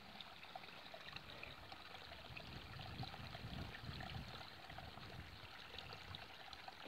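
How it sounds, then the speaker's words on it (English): Small brook running down a hillside on a reservoir trail, giving a steady, continuous burbling trickle of water, faint and close, with no voices over it. "I love the sound of running water."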